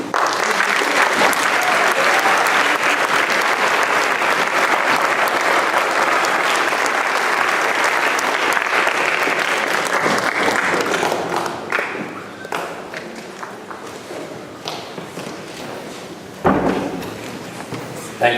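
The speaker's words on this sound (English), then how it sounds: "please join me once again in applauding all of our new members" An audience at a school National Honor Society induction and ring ceremony applauds new members, loud sustained clapping for about ten seconds that thins and fades out, followed by scattered thumps and room noise.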